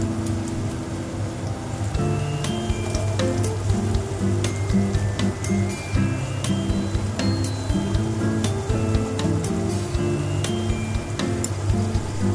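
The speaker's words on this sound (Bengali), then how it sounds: "কেটে রাখা আলুগুলো দিলাম" Chopped potatoes sizzling in hot mustard oil with onions, a continuous close crackle with music playing over it.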